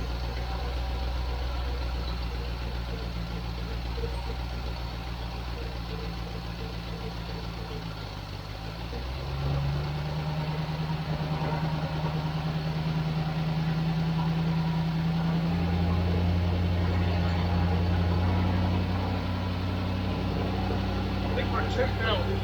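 A Range Rover engine idles steadily at 900 RPM with a deep, even hum close by. The pitch shifts slightly partway through, and a voice speaks faintly over it.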